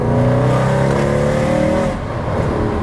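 A Mercedes W204 C63 AMG engine blipping on a downshift at speed, a loud close roar that climbs in pitch and then falls away as the revs drop, with road noise underneath.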